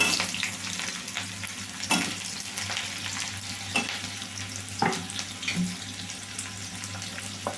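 Chopped onions and bottle gourd pieces sizzle in hot oil in a pan, a steady nearby hiss punctuated by sharp stirring scrapes and clicks every second or so, with no talking.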